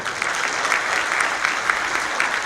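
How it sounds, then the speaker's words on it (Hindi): Audience at a Haryanvi comedy poetry show in Dubai claps steadily, an even wash of applause throughout with slight swells, no voices. "एक बार तालियां वालियां बजाओ, मैं शुरू होता हूं।"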